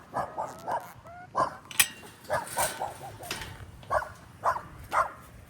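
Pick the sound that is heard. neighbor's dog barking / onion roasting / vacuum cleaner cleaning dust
neighbor's dog barking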